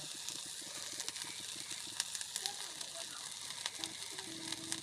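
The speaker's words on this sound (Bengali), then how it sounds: "তেলের উপর সুন্দর করে কষিয়ে নিতে হবে।" Ginger paste, turmeric and spices frying in hot oil for a pickle-style dal, a steady close sizzle broken by brisk scraping and stirring clicks from a spoon against the pan.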